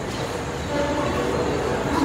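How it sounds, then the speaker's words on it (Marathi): A train pulls into platform 2 at Juinagar station in Navi Mumbai, a steady loud rumble of wheels and carriages that swells slightly as it draws close, with a faint tonal squeal and no clear talk. "आपली ट्रेन आली"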